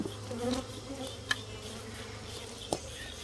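Bees buzzing around a hive during a hive check make a soft, continuous hum with a couple of sharp close taps, heard alone at low level.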